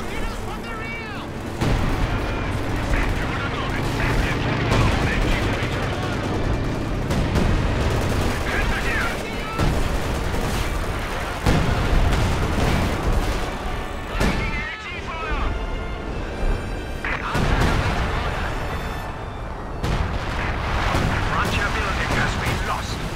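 Werfer rocket artillery fires during a Company of Heroes 2 battle at Saratov Bridge, a dense run of loud booms, blasts and gunfire with voiced unit callouts mixed in.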